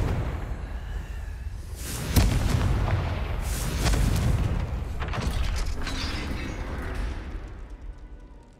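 A heavy gate mechanism grinding and slamming in a Harry Potter video game, a deep rumbling boom followed by sustained mechanical churning and whooshing that fades toward the end, with no voices.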